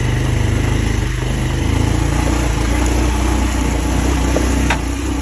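A small engine drones steadily at close range, a buzzing, rattling putter that holds a constant pitch throughout, with no talking.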